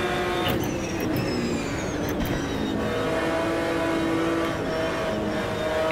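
A race car engine in a racing video game, droning loudly and steadily throughout, with rising and falling revs as it pulls through gears along the track.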